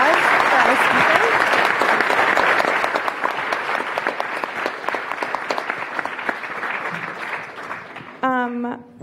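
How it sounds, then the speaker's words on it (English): An audience at a climate-damages conference applauds its speakers: dense, steady clapping from a crowd that gradually thins, then a voice starts talking near the end. "a round of applause for our"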